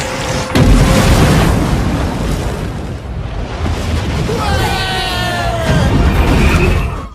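A loud, roaring blast surges and rumbles on for several seconds with crackling bursts, a big cinematic dragon gas explosion ignited by sparks filling the scene.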